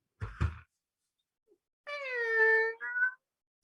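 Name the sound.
Splinter Cell night vision goggles sound effect from video game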